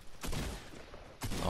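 Gunfire in the Fortnite video game: two loud broadband bursts, one near the start and one near the end, with sustained noisy game sound between them.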